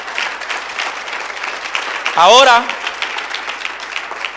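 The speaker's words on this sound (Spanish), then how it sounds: "Denle un aplauso al Señor fuerte." Church congregation applauding loudly throughout, a steady wash of clapping with a brief shouted exclamation rising above it midway.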